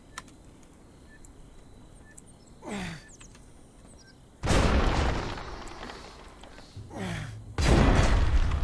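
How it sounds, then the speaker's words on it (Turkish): Two loud, booming landmine explosions from the video game Dysmantle burst out after some quiet clicking and whooshing sounds, each blast thick and roaring. "Ha iyi mayın da patladı."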